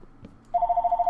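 Telephone ringing with a steady electronic warble that starts abruptly after a few faint knocks and keeps going close and fairly loud, with no voices.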